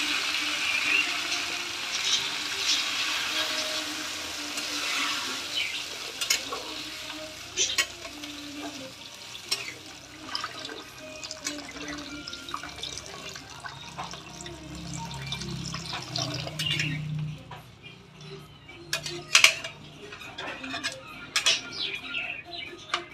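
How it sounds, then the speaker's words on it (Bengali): Water goes into a pan of simmering poppy seed curry for a rui-style katla fish dish, a soft pouring, sizzling wash with splashes, stirring scrapes and occasional drips, close and moderately loud with no talking. "তো আমি এখন দিয়ে দেবো জল"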